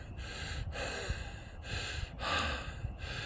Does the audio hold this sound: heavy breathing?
yes